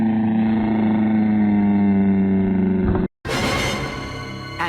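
A Honda CRF450L motorcycle rides back downhill on a dirt trail through a burned area in Central Oregon. Its engine drones steadily and loudly up close, cuts out abruptly for a moment, then returns with a rougher, noisier tone.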